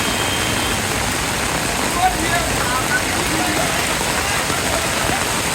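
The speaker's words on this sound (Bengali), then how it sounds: "দেখেন ঝুম বৃষ্টি" Steady, dense downpour of heavy rain flooding streets, a continuous loud hiss of water with occasional splashes, no voices.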